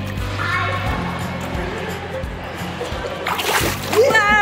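Child splashing in water while swimming, a continuous rough wash and slosh of water with a louder splash near the end, while people talk over it.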